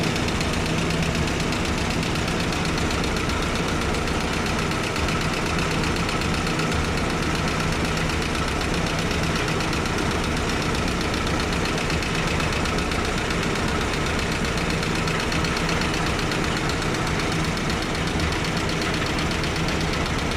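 A running GAZ-69 engine with a knock: a loud, dense, steady mechanical roar with constant rapid rattling throughout, heard close and with no voices.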